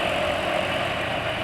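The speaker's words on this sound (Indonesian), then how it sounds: "lebih halus suara mesin, getaran mesin juga nggak separah kemarin" A small engine idles smoothly and steadily after an oil change to Unioil Gold 20W50, a close, even hum with a faint rhythmic knock and no voices.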